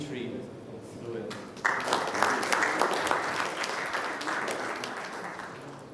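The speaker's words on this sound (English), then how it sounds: "Then another round of applause, please, for Dino and Dimitri." An audience at a Devconnect 2023 conference talk session breaks into a round of applause, dense clapping rising abruptly after a moment of a voice speaking and continuing steadily to the end.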